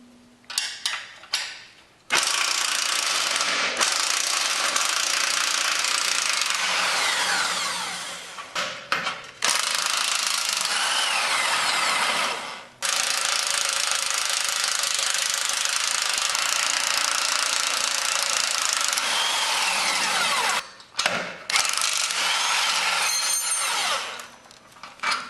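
Power tool removing the bolts from an old boat trailer, several long loud rattling bursts of impact driving separated by short pauses, close by, with no talking.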